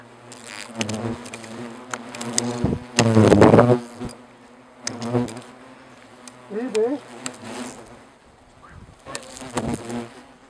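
Asian hornet workers buzz around a large nest in close, loud passes that swell and fade, with some shifting, sharp whines over a steady insect hum and no talking.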